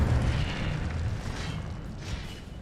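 An Incendio fire spell bursts in a Harry Potter video game, a dense rumbling boom that rolls on and slowly fades over a couple of seconds, loud and up close.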